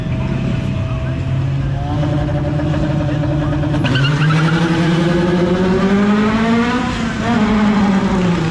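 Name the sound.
drag race car engine revving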